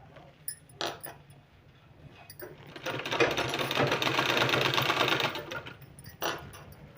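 A sewing machine stitches piping onto a kurti neckline. A few clicks and short bursts lead into a steady, fast mechanical whirr of several seconds, followed by a final click, all close and clear with no talking.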